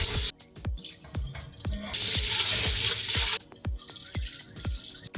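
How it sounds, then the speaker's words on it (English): Water splashes and drips into a pot as white rice is rinsed, with sharp repeated droplet taps and two bursts of running tap water, close and fairly loud. "We're gonna throw in some rice and we're gonna give this a quick rinse."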